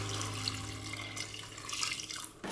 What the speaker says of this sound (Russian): заливаем это все горячей водой